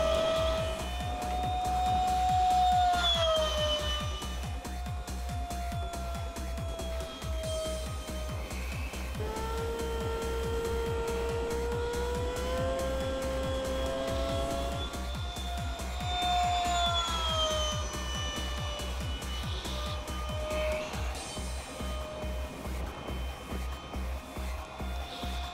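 A NitroPlanes Meteor RC jet plane, capable of about 125 mph, flies knife-edge and inverted passes, its steady high-pitched turbine whine drifting in pitch as it banks and passes, with a constant motor hum underneath throughout.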